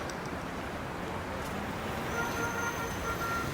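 Steady broadband road rumble of an angkot minibus moving through traffic toward Cimahi, a continuous enclosed engine and tyre drone with faint passing vehicle tones, in a radio drama production.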